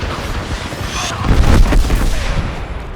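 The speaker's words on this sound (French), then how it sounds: "Je suis sous les tirs." Gunfire in a shooter video game, a burst of booming shots and rumbling blasts swelling in the middle of the clip over busy background noise.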